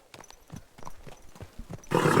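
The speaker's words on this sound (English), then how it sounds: "My, oh, beautiful horse." Horse hooves clip-clopping in Kingdom Come: Deliverance II, a steady series of distinct, fairly close steps at a walking rhythm, ending in a louder burst of broadband noise.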